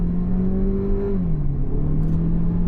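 A Chery Tiggo SUV pulls away from a standstill, its engine note steady then dropping slightly as it shifts, loud and close with no talk over it.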